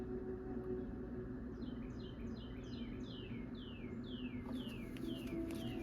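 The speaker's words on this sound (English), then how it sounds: "Y'all hear them birds?" Small birds calling outdoors, a series of quick repeated chirps and descending tweets at a moderate distance over a steady low background hum, with no talking.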